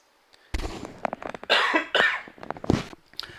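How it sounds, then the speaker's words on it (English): A fit of dry, raspy coughing, several harsh bursts close to the microphone after a brief silence. "You guys ever get that dry throat cough thing where your eyes start to water?"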